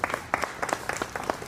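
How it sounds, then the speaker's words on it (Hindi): Audience at an interfaith prayer service claps in welcome during a shawl-presentation honour, with steady, moderately loud applause from a modest crowd and no talk. "हम करतल ध्वनि से आपका स्वागत करें"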